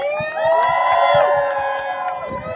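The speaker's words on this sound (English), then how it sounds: "He deserves a bigger round of applause." At a pro-Palestine protest rally, a crowd cheers and whoops loudly, with high voices shouting over a rhythmic chant or clapping. The din rises quickly and stays strong for the whole stretch.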